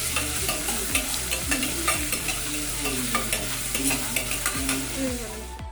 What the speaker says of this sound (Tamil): வெங்காயம் சேர்த்ததுக்கப்புறமா நல்லா கிளறி விடுங்க.